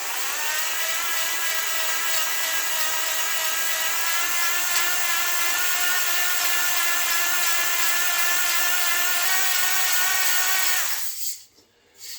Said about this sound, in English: You don't want to turn the drill real fast, but you do want to go in and out real fast.